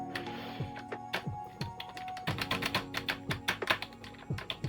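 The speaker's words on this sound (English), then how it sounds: "I'm going to hit T on my keyboard" Typing on a computer keyboard with key presses landing in quick, uneven succession, close and moderately loud, over a steady electronic hum with no speech.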